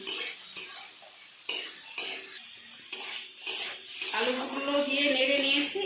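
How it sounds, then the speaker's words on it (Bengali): Fried potatoes stirred into a spice masala in a pan for a rohu fish and tomato curry, giving repeated scraping and stirring strokes over a low sizzle that grows steadier toward the end. "এবার আমি ভেজে রাখা আলুগুলো এর মধ্যে দিয়ে দিচ্ছি দিয়ে আর কিছুক্ষণের জন্য আমি নাড়াচাড়া করে নেবো"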